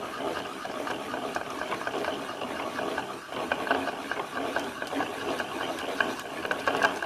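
Yarn winder being cranked by hand, producing a quiet, continuous run of fine ratcheting clicks and gear whirring at a steady pace.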